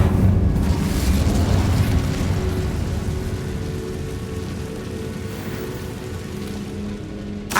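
Incendio fire spell cast in Hogwarts Legacy, a loud sustained roaring whoosh of flame with a rumbling, crackling burst that holds steady for several seconds, then tapers slightly before a small final flare.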